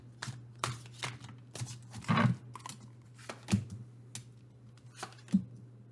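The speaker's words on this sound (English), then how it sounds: "let's shuffle and ask for the energies around lifetimes that you've shared" A deck of tarot or oracle cards is shuffled by hand during a reading, giving irregular crisp riffles and slaps that come in short bursts, close and fairly quiet, over a steady low hum.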